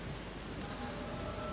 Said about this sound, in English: Okay, yep, and it's raining heavily.